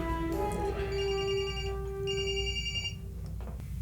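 A phone rings with a bright electronic tone, two pulsed bursts of ringing over a low background hum, fairly loud and near, with no speech.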